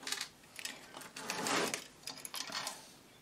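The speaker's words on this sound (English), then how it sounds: "let's just get some washers on them" Small metal washers are fitted onto the input jack of a valve radio, giving a run of light, close metallic clinks and scrapes in irregular bursts.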